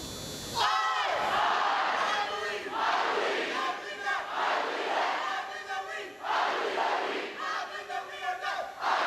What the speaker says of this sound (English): Please lead the nation in the I Believe cheer.